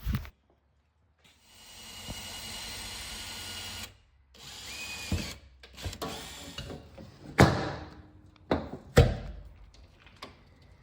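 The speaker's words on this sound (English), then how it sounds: "We placed 2 screws in the middle of the snap clamp to secure it to the door." Power drill driving screws through a snap clamp into a door while building a PVC flagger pole for stop/slow signs, heard as a steady whirring run followed by short, loud bursts of drilling and knocks, with no talking.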